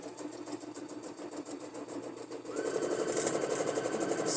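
A sewing machine running back and forth to back stitch the start of a fabric seam, with a fast, even mechanical whir that gets louder and busier partway through, near and alone.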